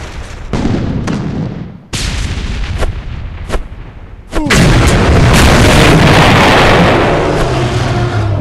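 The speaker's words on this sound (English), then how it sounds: "Throwing lots of grenades because I'm trying to hunt these dinosaurs." Grenades explode in the dinosaur-hunting video game Real Dino Deadly Hunt: several sharp, loud blasts go off in quick succession, then one big boom gives way to a sustained rumbling roar, with no talking.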